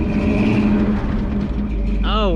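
A 1977 Chevrolet 4x4 truck engine revs hard while a tire spins on grass, a loud continuous drone that ends in a rising whine. Someone speaks over the engine.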